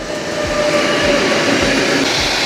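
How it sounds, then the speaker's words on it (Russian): A train rolls past a village in Germany, its steady wheel-on-rail roar filling the scene, close and loud, with a faint ringing squeal running through the rumble and no clear clickety-clack. "Шум колес. Совсем другой."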